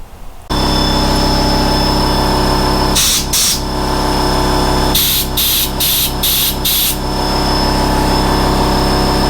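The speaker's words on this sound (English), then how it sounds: "I also need to blow out some of these screws" Compressed air blows dirt out of screws on a Makita DPC7311 power cutter, heard as a double burst of loud hissing followed by four short blasts in a row, all over a steady, loud mechanical drone.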